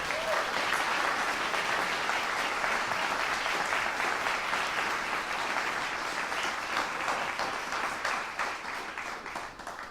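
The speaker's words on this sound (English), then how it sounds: "Let's have another round of applause for the Shantae Piano Trio" Applause from an audience at a young chamber musicians competition greets a piano trio, a thick wash of clapping at moderate volume that stays even and then starts to taper off near the end.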